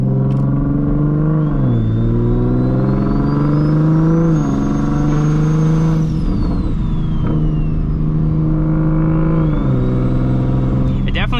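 A big-turbo Toyota Supra engine revs under throttle, loud and steady, its pitch rising and falling through several pulls with a faint turbo whine above the drone.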